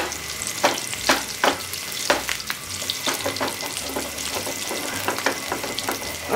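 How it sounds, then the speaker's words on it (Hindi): Paneer kofta balls frying together in hot oil, with a constant close sizzle broken by repeated scraping strokes of a spoon or spatula, and running water underneath. "कोफ्ता को फ्राई कर लूँगी"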